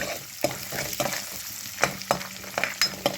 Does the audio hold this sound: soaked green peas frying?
yes